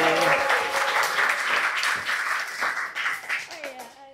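Audience applause at the close of a school podcast episode featuring the principal of SMAN 4 Madiun, a steady patter of clapping filling the whole stretch, with a voice speaking over it near the end.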